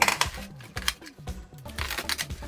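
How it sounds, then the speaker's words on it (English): A kitchen knife slices through spring greens on a chopping board in quick, irregular cuts, crisp close-up chops and crunches with short pauses between strokes. "we're now going to cut the spring greens."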